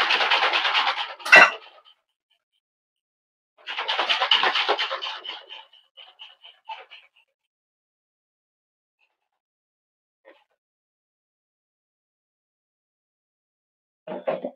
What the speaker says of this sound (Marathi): पॅक आपल्याला झाकण लावायचं आहे आणि त्याला शेक करून घ्यायचं.